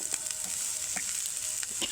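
Chopped onion frying for chili chicken, a steady hiss of hot oil with a few soft scrapes of stirring, close and fairly quiet.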